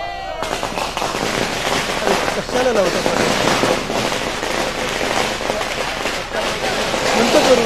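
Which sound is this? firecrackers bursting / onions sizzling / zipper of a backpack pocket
firecrackers bursting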